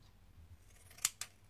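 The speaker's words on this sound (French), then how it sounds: "Et là, je vais faire tout le tour comme ceci. Avec mon ciseau cranteur." Pinking shears snip through a small piece of tulle in two quick, crisp cuts close by, after a quiet moment of faint handling.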